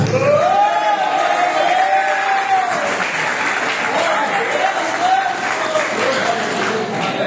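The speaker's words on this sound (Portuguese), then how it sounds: "Vai aplaudir Jesus." Church congregation claps and cheers during a Portuguese-language sermon, continuous applause with voices calling out over it and sung or shouted tones weaving through, loud and close.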